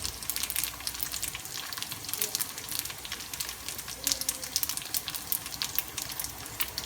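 Egg dumplings fry in a non-stick pan with a steady, fairly soft hiss and crackle that runs without a break, with no voice heard.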